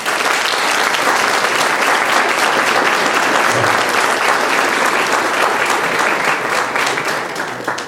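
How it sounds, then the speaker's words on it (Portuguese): A university auditorium audience applauds in dense, sustained clapping that holds steady and loud for the whole stretch, tapering only slightly at the very end. "eu desejo a todas as mulheres uma salva de palmas desse auditório"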